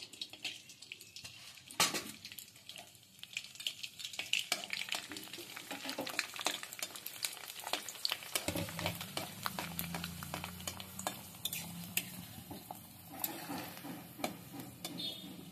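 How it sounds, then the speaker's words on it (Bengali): Puffed rice papads dropped into hot oil, with clattering and stirring at first, then a louder bubbling sizzle as the oil takes hold, continuing steadily with scraping sounds near the end. "তেলটা গরম হয়ে গেছে। এবার আমি কুরকুরেগুলো ছেড়ে দিচ্ছি।"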